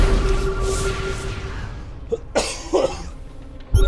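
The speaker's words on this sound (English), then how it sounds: "sorry about the cough" After a stretch of quiet hum, a few short, close coughs and a throat clearing break out, then stop abruptly.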